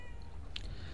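A cat in the video game Murdered: Soul Suspect gives a single short meow over a steady low game ambience.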